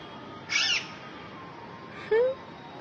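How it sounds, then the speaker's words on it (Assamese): Large parrots perched close by give two short, loud calls about a second and a half apart, with quiet background hiss between them. "এইটো ভাটৌ চাওক ভাটৌ দেখিছে কিমান আছে এইকেইটা বহি আছে"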